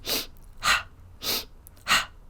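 Four strong, breathy exhalations at an even rhythm during yoga twists, each a short whooshing burst separated by brief pauses, close and loud with no talking.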